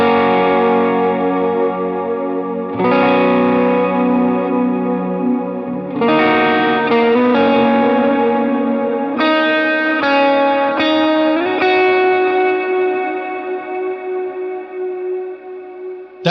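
An electric guitar plays a sustained lead line through heavy effects, notes ringing with distortion, chorus and echo, loud and alone.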